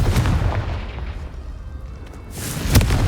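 The Confringo explosive spell cast in the video game Hogwarts Legacy: a deep, rumbling blast that fades into a low tail, then a second sharp boom near the end.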